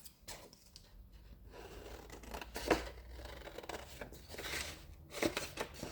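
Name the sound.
scissors cutting out paper pieces for a journal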